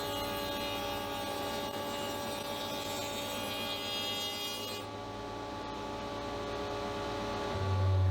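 An Elektra Beckum (now Metabo) TF 900 spindle shaper cuts a workpiece with a steady motor whine and hum. A bright, hissing cutting noise runs over it and then drops away partway through, while the motor keeps running.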